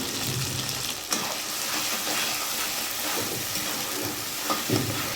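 A ground spice paste of coriander, cumin, ginger, dried chilli, turmeric, tomato paste and salt fries in hot oil with bay leaf, giving a continuous crackling sizzle with a few scraping stirs.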